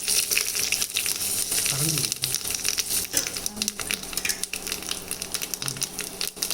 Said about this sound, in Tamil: எண்ணெய் வந்து நல்லா காஞ்சிடுச்சு கடுகும் பொரிய ஆரம்பிச்சிடுச்சு